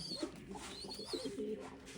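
Pigeons coo in soft, low, throaty bursts, several overlapping calls close by against a quiet background.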